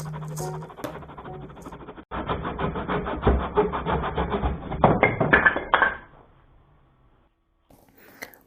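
A handsaw cuts through wood for a cinderblock bench in a rapid run of rasping back-and-forth strokes, close and moderately loud, then stops and leaves near silence.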